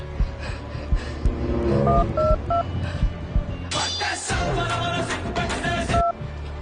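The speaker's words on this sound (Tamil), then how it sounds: "டேய் நீ அவருக்கு ஃபோன் பண்றா, வருவாரு" Telephone keypad tones beep in short bursts as a number is dialled, set against a busy scene in a Tamil comedy sketch with background music and noise, the tones clear and close.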